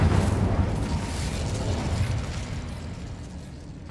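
Incendio fire spell cast in Hogwarts Legacy on PS5, a loud whooshing burst of flame that roars and crackles densely, then slowly fades over a few seconds with no voices.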